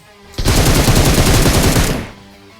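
Gunfire in BGMI PUBG Mobile: a loud, close burst of rapid automatic shots, about one and a half seconds of continuous fire that cuts off abruptly.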